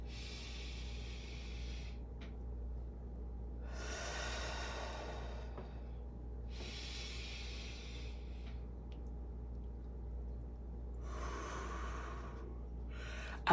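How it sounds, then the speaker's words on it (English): Slow, deep breaths drawn close to the microphone in a quiet room, each a soft airy rush separated by long pauses, with no talking. "let's take 2 deep breaths"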